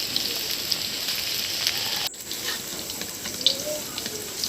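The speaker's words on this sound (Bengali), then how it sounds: "আমি একটু হালকা তেলেই ভাজবো, এটা একটু সময় নিয়ে" Pumpkin leaf fritters frying in shallow oil over medium heat give a continuous, even hiss and crackle, close and steady, with one brief dip partway through.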